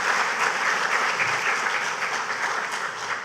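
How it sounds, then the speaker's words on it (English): A conference audience at a cultural and creative industries event in Grenada breaks into full, dense applause that holds steady and starts to fade near the end. "Give yourselves a round of applause for being here this morning."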